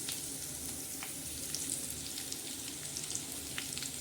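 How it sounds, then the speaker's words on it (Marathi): Cumin, garlic and curry leaves tempering in hot oil, a close, continuous crackling sizzle with scattered sharp pops, alone with no talking. "हे बघा जिरे आणि लसण आणि कढीपत्ता असा मस्त तडका होत आहे"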